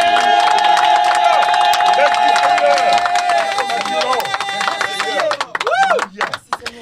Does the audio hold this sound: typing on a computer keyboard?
no